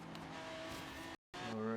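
Racing car engine in a video game, a sustained loud drone with rising revs and possible tire squeal, cut by a brief gap of silence before resuming with a player talking over it.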